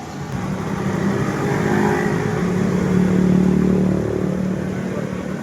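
A Bajaj NS125 FI motorcycle with a stalling problem revs up nearby, the engine note swelling and easing off twice over a steady rattly idle, with no voices.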